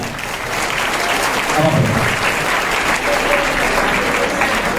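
An audience at a talk show led by an Indian Medical Association president applauds Divyanshi Singh, a dense, steady wash of clapping that holds loud and even for the whole stretch, with a faint voice underneath.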